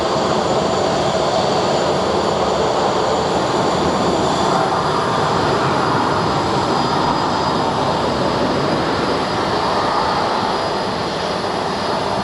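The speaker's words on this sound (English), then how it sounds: "Keep looking at that C-130." A C-130 military transport aircraft at Sky Harbor International Airport gives a loud, continuous turboprop roar that stays at full strength throughout, dense and unbroken with no pauses.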